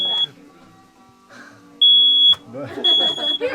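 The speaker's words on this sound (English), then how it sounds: "if the fire alarm doesn't go off when you're cooking, you're not doing it right" Smoke alarm set off by cooking sounds a shrill piercing tone in short bursts, one sustained blast mid-clip, while people talk around it.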